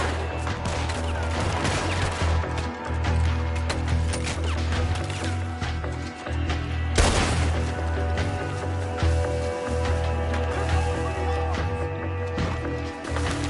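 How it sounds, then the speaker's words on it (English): Gunfire from a shootout in the video game Red Dead Redemption 2, a dense mix of shots, crashes and impacts running steadily over a constant low background for the whole stretch, with one louder burst partway through. "I can't move for all this shooting."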